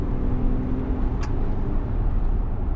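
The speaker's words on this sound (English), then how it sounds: "It's got a nice rumble." Steady low rumble from an Audi A7 50 TDI with a 3-litre diesel engine while driving, a continuous broadband drone with a brief faint higher tone midway.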